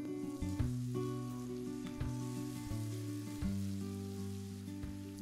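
Pieces of pork spare rib brown in butter in a small pan, a soft, fairly quiet sizzle with scattered pops and a few sharp ticks, no speech, and a faint low tonal hum behind it.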